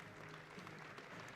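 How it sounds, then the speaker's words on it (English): A crowd applauds a player at a women's college basketball game in a gym, a brief steady patter of clapping throughout. "gets a nice round of applause here"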